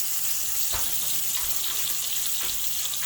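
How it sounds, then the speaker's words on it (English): Steak bites searing in a pan give off a steady, moderately loud hiss with a few soft knocks on top. "I'm just putting my steak in my pan here"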